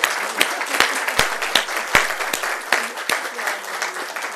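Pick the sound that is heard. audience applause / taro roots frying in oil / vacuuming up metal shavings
audience applause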